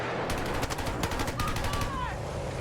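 Rapid automatic gunfire in Battlefield 6, loud close bursts of evenly spaced shots, with a brief rising and falling whistle between the volleys.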